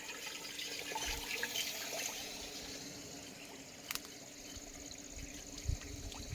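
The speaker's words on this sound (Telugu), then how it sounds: "ఈ వెయ్యి లీటర్ల డ్రమ్ము నుంచి వెళ్ళి వంద లీటర్ల డ్రమ్ములో పోసి" Liquid OWDC waste decomposer pours from a 1000-litre drum into a 100-litre drum on an oil palm plantation. The gushing flow is steady and continuous, with a few faint knocks.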